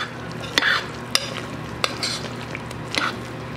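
A spoon stirs an apple cinnamon dessert in a hot crock pot, giving several sharp scrapes and clinks against the pot over a soft sizzle, close and moderately quiet, with no talk.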